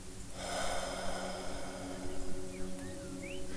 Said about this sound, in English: Breathing warm air out from the heart.